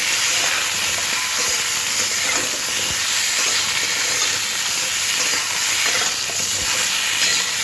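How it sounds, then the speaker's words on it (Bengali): Potato, pointed gourd and ridge gourd pieces fry together in a pan, giving off a loud, steady, broadband sizzle and hiss that runs unbroken throughout, with faint stirring underneath. "এবার সব সবজি একসাথে ভাজতে হবে।"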